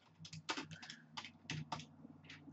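Text entered on a computer keyboard, a quiet close run of irregular key clicks, about a dozen taps in under three seconds with no talk.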